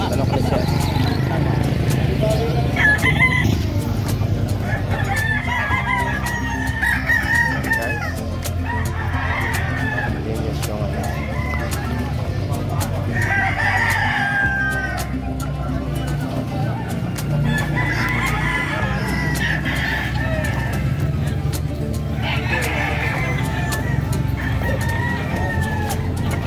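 Several fighting roosters crow repeatedly at a pet market in Malasiqui, with hens clucking throughout, over steady market background and people talking.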